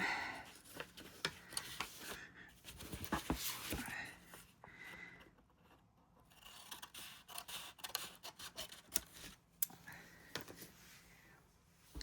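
Scissors snip through paper for an altered file folder journal, a run of close, crisp cuts and rustles with brief pauses, faint talk at moments.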